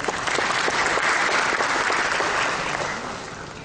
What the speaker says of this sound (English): A round of applause for Shri Rajiv Agarwal.